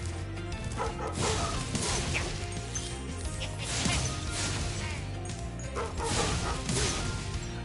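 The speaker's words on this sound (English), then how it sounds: "I hate these dogs in this game so much." Dog enemies in the Spyro video game bark and yip repeatedly amid whooshes, thwacks and crashing hits, busy and loud throughout, mixed over game music and effects.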